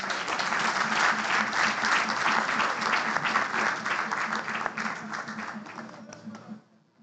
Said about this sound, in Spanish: Me acompañan con su aplauso,